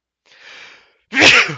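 A single close sneeze, a breathy inhale rising into a sharp, loud burst that trails off quickly.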